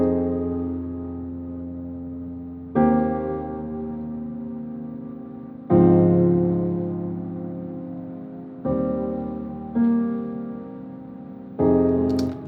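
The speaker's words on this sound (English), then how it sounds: "now let's kind of hear the chord progression" A slow chord progression of seventh chords played in inversions on a soft, bell-like keys sound, each chord struck and left to ring and fade over a couple of seconds, with no voices.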